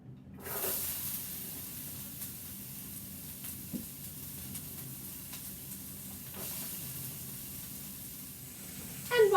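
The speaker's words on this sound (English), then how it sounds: "I'm going to drop my onions into the frying pan, and it's going to sizzle" Onions sizzle steadily in oil in a frying pan, a constant bright hiss with occasional crackles, close and moderately loud, with no talking.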